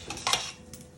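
Rice for Nigerian fried rice is stirred in a pan, producing a couple of quick, light clinks and a brief scrape of the utensil, close and quiet.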